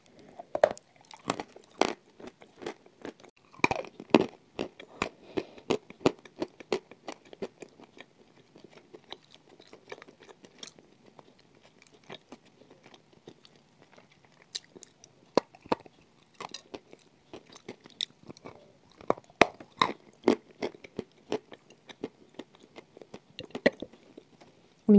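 Close, crisp bites and crunchy chewing of chalk and yogurt dessert repeat irregularly over a quiet background, with sharp cracks followed by softer grinding.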